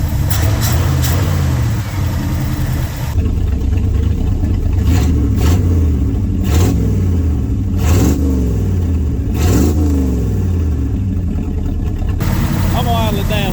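A 1971 Ford F100 pickup's FE 360 V8, running again after sitting abandoned for 39 years, revs and settles in repeated swells over a steady engine rumble, loud and close throughout.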